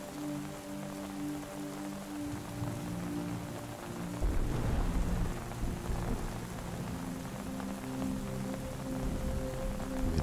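Steady rain patters on a surface throughout, and a low rumble of thunder swells partway through and lingers under the downpour.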